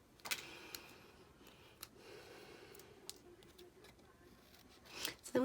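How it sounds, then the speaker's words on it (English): Scissors snip around a stamped paper flower in quiet, scattered cuts, a few crisp clicks spaced irregularly with soft rustling and faint breathing between them. "So I have to fussy cut my flower out because there's no dies to cut the flower."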